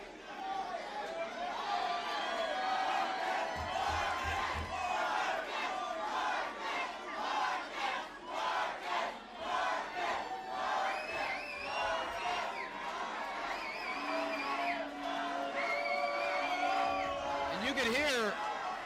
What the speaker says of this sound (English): the majority of this crowd still firmly behind Marcus Portillo